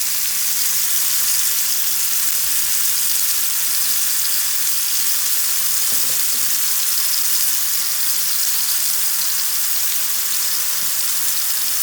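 Seasoned steak with steak rub, smoky paprika and seasoning salt sizzles in a pan over medium-high heat, a steady loud hiss throughout with one brief knock partway through.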